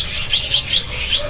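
Small songbirds at a kiosk in a bird market chirp in short, repeated high tweets, about four bright calls over a steady low hum of the surrounding market, with no talk.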